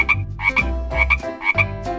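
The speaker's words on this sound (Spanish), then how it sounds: "Y esta es una rana." A frog croaking, three or four close, loud, rhythmic croaks repeated in a steady pattern, alone with no talk.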